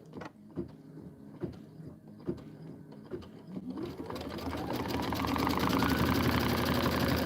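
A domestic sewing machine quilting an autumn apple-tree design starts with slow, spaced stitching thumps, then speeds up into a loud, continuous whirring run close by.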